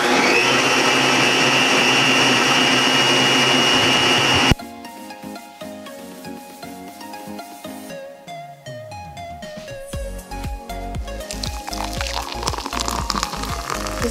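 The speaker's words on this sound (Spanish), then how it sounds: "Y vamos a moler." A blender grinds keto coffee with butter and stevia, a loud steady whir for the first few seconds that cuts off abruptly, leaving quieter clinking and rattling kitchen sounds.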